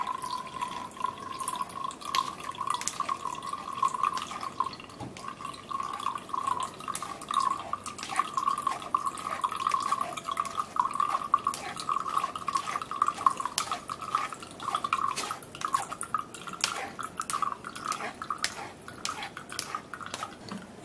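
Homemade juice drink being strained, with liquid pouring and dripping steadily through a strainer into a container alongside light clinks of a utensil, close and fairly quiet throughout.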